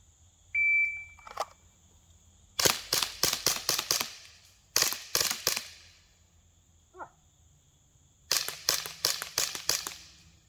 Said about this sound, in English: Got some full auto burst there.